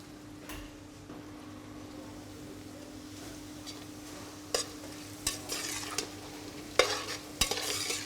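Courgettes go into gently heated olive oil: a quiet, low sizzle under a steady hum, then several sharp clatters and louder bursts of sizzling as the pieces are stirred in the pan.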